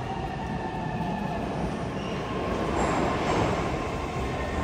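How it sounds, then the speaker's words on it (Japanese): A green Saint Petersburg Metro train arrives at an underground station with a loud, steady rolling rumble and a faint high brake squeal building toward the end. "次は、緑色の電車が来ましたね。"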